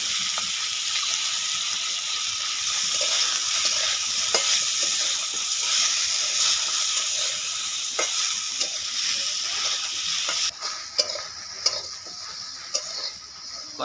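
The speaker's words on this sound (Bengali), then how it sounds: "ভিন্ডি আর বিনস হাফ ফ্রাই করে নিচ্ছি" Okra, beans and eggplant half-frying in a pan give off a steady, loud sizzle that runs throughout, with a few sharp clinks and scrapes near the end.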